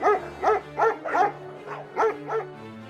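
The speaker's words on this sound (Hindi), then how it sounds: "कुत्ते अगली रात पहलवानों पर भौंकने लगे।" Dogs bark at night at wrestlers in an animated village story, about seven sharp, close barks in an uneven rhythm with brief gaps and no talking.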